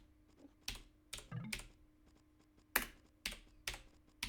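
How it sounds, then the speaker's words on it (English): Slow key strikes on a mechanical keyboard, about ten distinct clacks at a loose, uneven pace, close but quiet, with nothing else audible around them. "Beautiful mechanical keyboard sounds."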